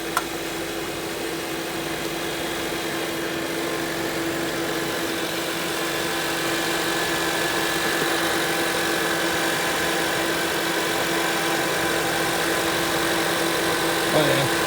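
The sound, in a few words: car engine idling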